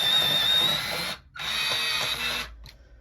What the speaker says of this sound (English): I will keep going on about this electric sharpener